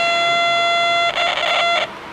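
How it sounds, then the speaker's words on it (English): A cheap electronic burglar alarm built from a Maxitronics electronics lab kit gives a steady high electronic tone, then a harsher warbling burst for under a second before it cuts back to the thin tone. "it turns on a very wimpy burglar alarm"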